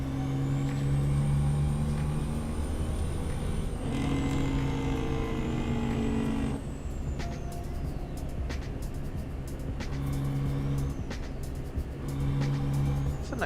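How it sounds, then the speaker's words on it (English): Truck in a trucking video game driving along at night, a steady engine drone with loud hissing air brake releases and shifting tones recurring every few seconds. "That truck is going way too slow for my liking."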